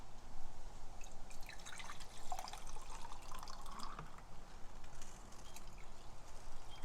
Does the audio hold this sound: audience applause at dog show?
no